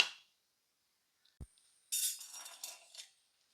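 A metal lid goes onto a cooking pot of yam and Chinese potato, with a single sharp clank followed by a brief ringing, rattling settle in an otherwise quiet kitchen.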